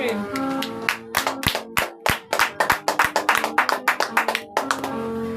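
A church congregation claps in a steady rhythmic beat, loud and close, the claps coming quickly and evenly throughout with voices faintly mixed in.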